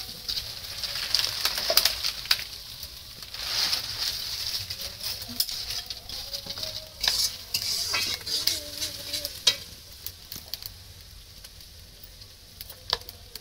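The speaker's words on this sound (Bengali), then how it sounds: "চিকেন কষা হবে লাইট পিকনিক লাইট ধরে রান্না পেঁয়াজ কষা" Onions fried and stirred in a pan for chicken kosha at a home picnic, a continuous sizzle with repeated scraping stirs and clinks, birds chirping faintly in the background.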